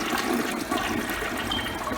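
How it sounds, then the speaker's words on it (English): A household toilet flushes after a wax ring repair: a loud, close rushing gurgle of water draining from the tank through the bowl, continuous for the whole stretch with no talking. "Once it's full, now flush it."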